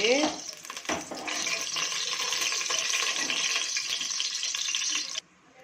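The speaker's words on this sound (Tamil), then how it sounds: "எண்ணெய் வந்து தேவையான அளவு ஊற்றிக்கிட்டு" Cooking oil is poured into a pan for veg biryani, producing a close, even hiss and faint sizzle that lasts about four seconds before stopping suddenly, after some brief clatter at the start.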